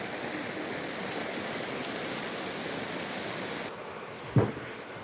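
Steady rain hisses evenly for several seconds, then cuts off abruptly, leaving a near-silent pause with one brief thump.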